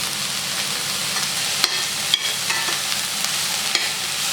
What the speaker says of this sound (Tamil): சால்ட்டு போட்டு வெங்காயம் வதக்கணும்னா வெங்காயம் வந்து நல்லா வதங்கிடும், சீக்கிரமாக வதங்கும்